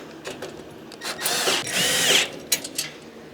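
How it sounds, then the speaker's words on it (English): A socket wrench tightens 13 mm bolts during equipment assembly, with several bursts of ratcheting and spinning, close and moderately loud, with no talking. "Then we're going to go ahead and use our socket. Tighten those up."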